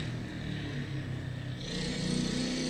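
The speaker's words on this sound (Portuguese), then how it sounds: "Deixa a moto passar." A motorcycle passes nearby, its engine droning steadily and swelling slightly as it goes by, heard alone against a faint outdoor background.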